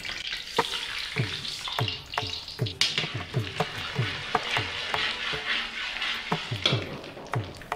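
Mustard seeds spluttering in hot oil for Triplicane temple-style tamarind rice, a dense run of sharp crackling pops over a steady sizzle, near and fairly loud, with no voices.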